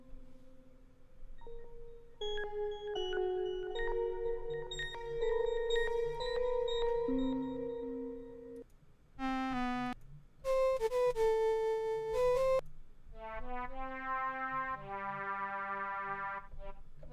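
Korg Collection 3 software synth preset playing a sequence of bright, layered tonal notes and chords, some sustained and some short and stabbing, loud and alone with no talk.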